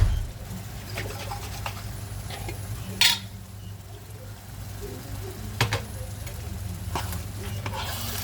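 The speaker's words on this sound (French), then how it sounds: "Je vais mettre un petit peu d'eau pour rendre tout ça." A little water goes into a cooking pan of meat and tomato, bringing soft sizzling, stirring and faint liquid sounds over a low steady hum, with a few sharper clinks of utensils.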